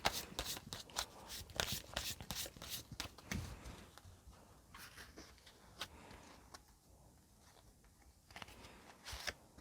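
A deck of oracle cards being shuffled by hand: soft, quick riffling and flicking with sharp card snaps, busiest at the start and then thinning out into scattered taps, quiet and close.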